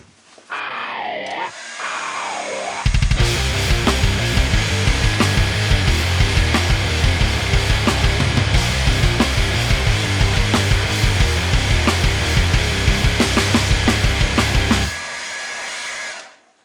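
Airbrush spraying a light dusting of chipping fluid onto a rat rod model, a steady close hiss running about twelve seconds after a few brief softer puffs, then cutting off abruptly.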